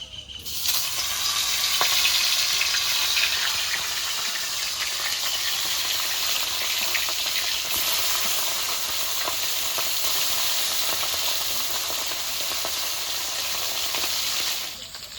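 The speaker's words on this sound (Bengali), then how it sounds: "এবার মাছটা ভেজে নেবো" Turmeric- and salt-coated fish frying in oil in a wok: a loud, continuous close sizzle with scattered sharp crackles and pops, steady for about fifteen seconds.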